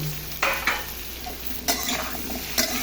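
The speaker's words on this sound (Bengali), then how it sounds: "পটল একটু ভাজি করে নিই, দিয়ে দিব।" Pointed gourd fries in a pan, a soft steady sizzle broken by a few sharp scraping bursts as a utensil stirs the pieces.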